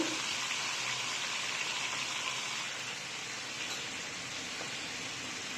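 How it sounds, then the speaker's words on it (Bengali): Pieces of rui fish frying in a pan in a Bangladeshi kitchen give a steady, dense hiss and sizzle with fine crackling throughout, even and continuous with no talking. "মাছকে ভেজে নেব ভালোভাবে"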